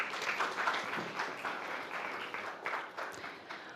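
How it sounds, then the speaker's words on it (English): Audience applause at a startup pitch competition, steady dense clapping from a crowd on stage introduction lasting the whole few seconds, fairly moderate in level and slightly distant. "With a round of applause,"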